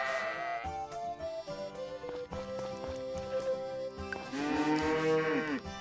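Cattle mooing in the farming video game Story of Seasons: Friends of Mineral Town, several drawn-out tonal moos following one another, loud and up front over light game background music.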